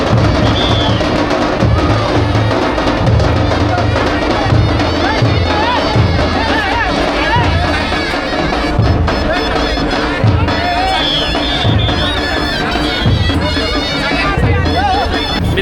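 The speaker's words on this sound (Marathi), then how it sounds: "तुफान गर्दी." A dense crowd roars and chatters as Bakasur, the celebrated bull, arrives at an agricultural festival in Chiplun, loud continuous hubbub with repeated rhythmic low thumps, likely drums, and occasional shouts throughout.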